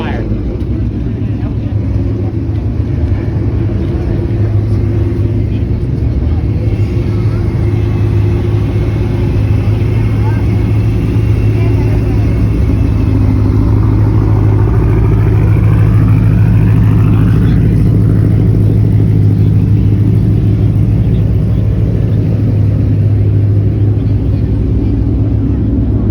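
A steady, loud engine drone fills a Mustang Week 2021 showroom where a red Ford Mustang Cobra is on display, with a brief rising rev partway through.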